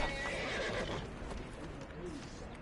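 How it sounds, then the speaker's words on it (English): A horse in the Neverwinter video game gives a loud close neigh at the start, followed by clip-clopping hooves fading over the next couple of seconds. "I love this horse. He's so beautiful."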